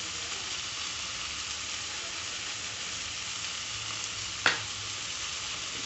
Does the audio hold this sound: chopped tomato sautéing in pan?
yes